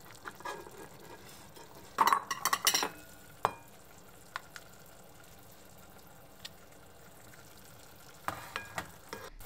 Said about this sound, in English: boil the sauce over medium-high heat for 5 minutes